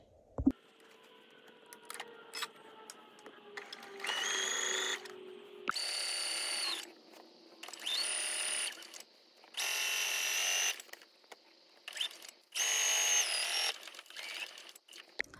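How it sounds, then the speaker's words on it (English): Embroidery sewing machine stitching quilt binding on a Kimberbell Pumpkins & Potions quilt: several loud, steady bursts of mechanical whirring a few seconds long, separated by short pauses and quieter handling noises. "I'll take it back and start stitching 1/4 of an inch from that edge"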